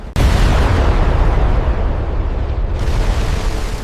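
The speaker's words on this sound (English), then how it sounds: "Then, a final explosion erupted." A massive final explosion in a dramatic monster battle scene, a loud sudden boom that erupts sharply and then rolls on as a sustained, dense rumbling roar for several seconds.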